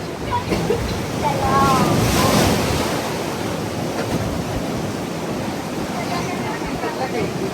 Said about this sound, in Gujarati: એ ક્યાં મોજું ઉછળીને આવ્યું?